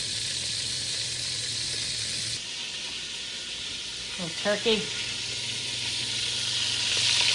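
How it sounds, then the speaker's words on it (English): Meatballs sizzle and fry in a pan in a home kitchen, a steady bright hiss that runs through the whole clip, with a person talking briefly over it. "Get the meatballs in there frying."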